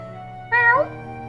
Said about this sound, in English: Oh, it's such a cute cat.